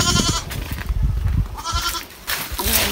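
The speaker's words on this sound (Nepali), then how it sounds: "बाख्रा चाहिँ एकदम धेरै छ मेरो।" Goats at a home farm bleating loudly and close, several repeated bleats in quick succession with no talk.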